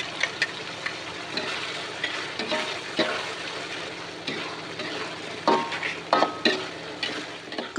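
Vegetables with tauco (fermented soybean paste) sizzle and crackle as they are stir-fried in a hot pan, a utensil stirring and scraping, with occasional sharp clinks against the metal.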